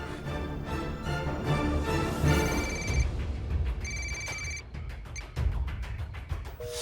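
A telephone rings repeatedly in a French TV drama scene, its electronic ringtone chirping in bursts over a busy, music-like background bed with no talk.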